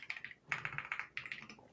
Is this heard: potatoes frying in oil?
no